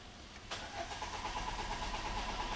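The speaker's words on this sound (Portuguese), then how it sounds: "Vou dar a partida no veículo aqui." A 2009 Peugeot 307 engine cranks without catching, a close, steady whirring churn that begins abruptly after a brief pause and runs on unbroken for about two seconds.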